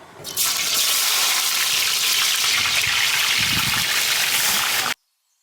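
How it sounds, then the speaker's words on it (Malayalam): Sliced onions hit hot oil for an Eid biriyani and set off a loud, steady, gushing sizzle that starts abruptly and runs unbroken for several seconds before cutting out. "കുറച്ച് വലിയ ഉള്ളി കൂടി നമുക്ക് ഈ എണ്ണയിലിട്ടിട്ട് പൊരിച്ചെടുക്കാം"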